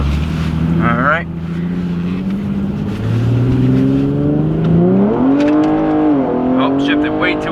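An Infiniti G37 sedan drifts in snow, its engine loud and close as it revs up and drops pitch through a shift, then climbs again. People talk over the engine noise.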